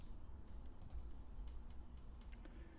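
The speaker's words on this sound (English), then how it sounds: "We're going to type in this." Typing on a computer keyboard while entering a password on a login page, a quick run of soft, close key clicks over a low room hum, with no talk.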